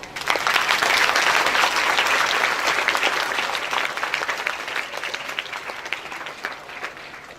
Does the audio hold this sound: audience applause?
yes